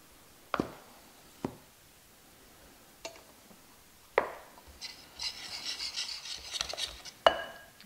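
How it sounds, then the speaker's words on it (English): Whole grain flour being mixed by hand into bread dough made with whole grain starter: a few separate scrapes and thumps, then steady rough rubbing and stirring that grows busier, close and fairly quiet. "Mix in some whole grain flour"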